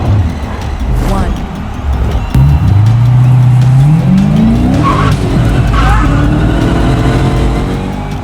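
Hot Wheels die-cast '32 Ford and Challenger racing down a double-lane curved track, a loud rolling rumble rising into a long squealing whine through the curve, with a commentator talking over it.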